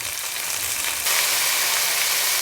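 Cauliflower fries in a pan with a loud, even hiss that swells suddenly partway through and then holds steady up close.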